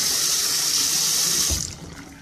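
A faucet runs strongly into a sink as face paint is rinsed off, a loud close hiss of water that cuts off and fades out after about a second and a half.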